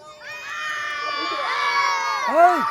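Spectators at a village football match between Hilora and Jajigram shout and cheer loudly and continuously, a dense roar of voices rising near the end, with no distinct clapping audible.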